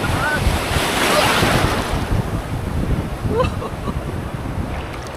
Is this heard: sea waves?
yes